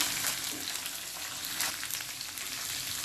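Ginger garlic paste sizzles in oil in a frying pan, a dense, even crackle that stays at a moderate, constant level, with no voices.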